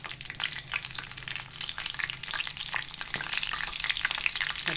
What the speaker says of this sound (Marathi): ह्याच्याबरोबर आता ही आपण मिरची तळणार आहे.